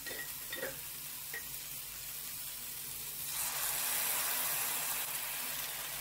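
Water is poured into ash gourd frying in a pan, the steady sizzle jumping to a louder, brighter hiss partway through and holding there, with faint stirring clinks early on and no talk.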